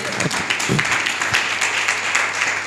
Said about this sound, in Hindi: अपने आप के लिए सब ताली बजाएं, जोर से बजाएं।